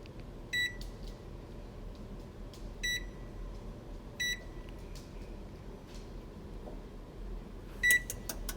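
An oven's control panel gives four short electronic beeps at uneven intervals while the temperature is set, standing out clearly against a low, steady background hum.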